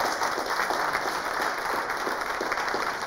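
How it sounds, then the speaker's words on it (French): Dense, steady applause from a live audience at a café stage show fills the whole stretch, many hands clapping at an even level with no voice over it. "On va applaudir encore plus fort que ça."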